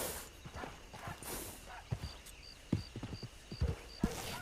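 A horse's hooves clip-clop in an irregular series of hollow thuds, quiet and fairly close, over a faint hiss.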